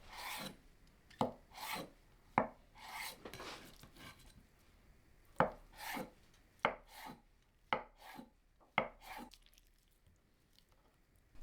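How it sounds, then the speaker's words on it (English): A knife chops through a block of medium firm tofu into one-inch cubes on a board, giving about a dozen crisp, separate thuds and cuts at an uneven rhythm, close and fairly quiet with silence between strokes. "cut 1 pound medium firm tofu into 1 inch cubes"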